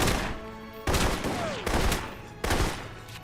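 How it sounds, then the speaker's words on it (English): Enemy shotgun blasts in the video game Alpha Protocol, set in Rome: three loud, sharp reports spaced under a second apart, each trailing off into a lingering decay, with no talk over them. "These guys and their shotguns."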